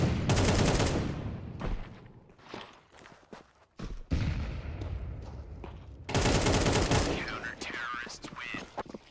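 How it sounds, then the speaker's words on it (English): Gunfire in a Counter-Strike match, with AWP sniper shots and rifle bursts cracking loudly in dense clusters, mixed with footsteps and game sounds under excited commentator voices. "they are going to get instantly dropped by the AWP as well as Mazer's rifle"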